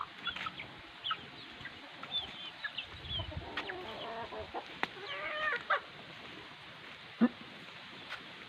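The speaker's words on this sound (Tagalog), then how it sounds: "Mga alaga akong manok." Chickens clucking and squawking nearby, scattered calls over quiet background with a few sharper cries.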